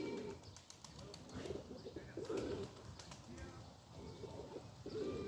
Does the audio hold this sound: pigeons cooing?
yes